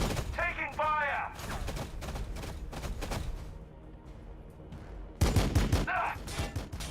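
Bursts of rapid gunfire and heavy shots ring out in the Warhammer 40k Battlesector video game, loud fusillades that start and stop, with a soldier's shouted voice and battle noise between volleys.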